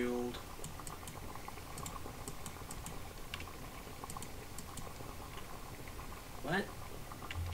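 Water boiling for noodles in a horror video game: a faint, steady bubbling that runs throughout, mixed with light keyboard clicks.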